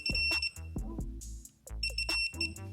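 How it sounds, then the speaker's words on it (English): A digital torque wrench beeps while tightening the transmission drain plug on a 2022 Harley-Davidson Road Glide, with close, sharp repeated electronic beeps over tonal tones and brief clicks. "tighten it up, and you'll hear a beep when it gets close"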